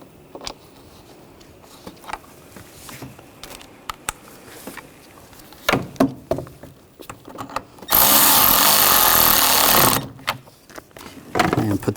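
A power tool tightening bolts during a thermostat and housing replacement on a 2009-2017 Volkswagen Tiguan, heard as a loud sustained two-second whir after scattered clanks and short tool bursts, with a brief burst again at the end.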